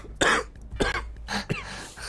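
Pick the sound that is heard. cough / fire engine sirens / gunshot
cough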